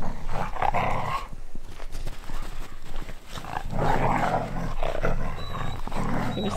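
Several young Siberian husky sled dogs play together in an outdoor kennel area in Lapland, with steady growls and scuffling mixed with rustling and faint voices throughout.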